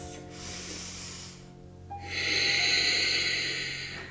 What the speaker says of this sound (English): Take 2 more big breaths.